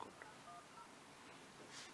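Telephone keypad tones sound as a phone number is dialed, with a few short, faint beeps at low volume under quiet background noise.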